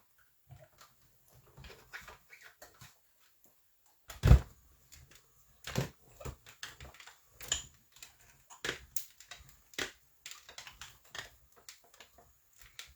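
A manual die-cutting machine cuts paper butterflies from stacked plates, giving sparse close clicks and knocks with one louder thump partway through.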